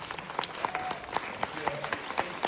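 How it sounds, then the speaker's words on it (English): A crowd applauding, with steady overlapping claps and a few sharper individual hand claps standing out, moderately loud and continuous throughout. "give Marcus a big round of applause"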